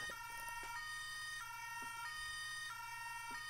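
Toy police car siren, a French-style two-tone wail repeating in steady alternating notes with small clicks, faint and electronic-sounding, no voices.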